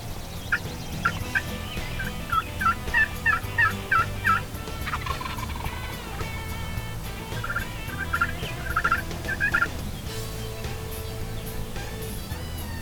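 Wild turkey toms gobble repeatedly outdoors in spring, in several loud rattling bursts that come in clusters over a low steady rumble, one bird sounding close while others answer farther off.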